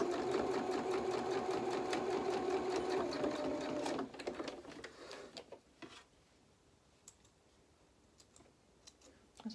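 Sewing machine re-stitching a puckered, previously zigzagged seam on a small polka dot dress, a close, rapid mechanical whir for about four seconds that stops, followed by scattered light clicks and handling sounds.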